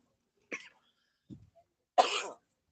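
Three short, dry coughs from a nearby person during a Karapan Sapi bull race broadcast, spaced apart in otherwise quiet surroundings, with the last one being the loudest and longest.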